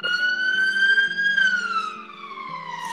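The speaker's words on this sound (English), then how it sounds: "I just heard like the ambulance." An ambulance siren wails loud and steady, then its pitch slides gradually downward as the vehicle passes by. No talk is heard over it.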